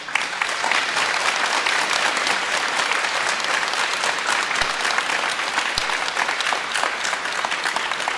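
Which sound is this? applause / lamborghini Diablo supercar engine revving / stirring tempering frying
applause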